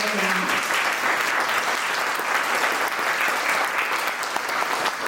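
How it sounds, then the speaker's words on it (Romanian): Audience applause at a FuckUp Nights event in Oradea, a dense, steady wash of clapping from a room full of people, sustained for about five seconds at close range. "Haideți să aplaudăm Mirela."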